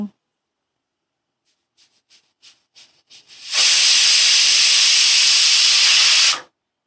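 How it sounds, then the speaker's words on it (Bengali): A pressure cooker with about half a cup of water first lets out a few short puffs of steam. It then bursts into one loud, sustained whistling hiss for about three seconds before cutting off. "দেখো একটা সিটি হয়ে গেল"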